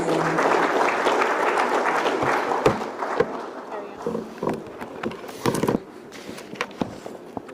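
Audience applause fills the room at first, then fades into scattered claps and thumps while a voice speaks over it.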